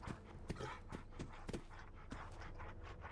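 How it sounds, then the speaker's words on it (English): A wounded dog in the video game Fallout pants faintly in quick, rhythmic huffs, with a few sharper breaths standing out over a dense, low background hum. "there's a wounded dog"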